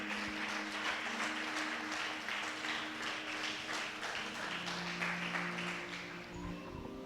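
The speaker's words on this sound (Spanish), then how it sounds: "Si le quiere dar ese aplauso al Señor, déselo fuerte a Él." A church congregation applauding loudly together, with dense, sustained clapping from many hands over a steady organ or keyboard drone, continuing evenly for several seconds.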